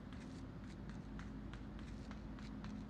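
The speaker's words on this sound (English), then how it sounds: "Denny, do you hear these footsteps?" Quiet, muffled footsteps of soldiers moving during a match of the VR shooter Onward, a faint irregular patter of quick steps over a low background hum.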